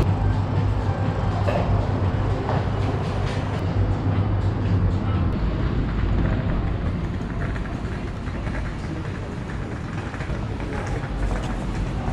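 Rumbling rail traffic with a tram rolling close by a tram station near Münchner Freiheit in Munich, a dense, steady mechanical roar with clanks and no voices.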